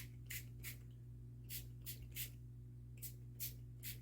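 Several short bursts of olive green metallic spray paint hiss from a can, in pairs and triplets with pauses between, over a steady low hum.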